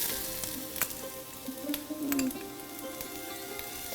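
Ginger hits hot oil for a Kerala-style beef roast and crackles in a fine, steady sizzle with a few sharp pops, fairly faint and close, with no one talking.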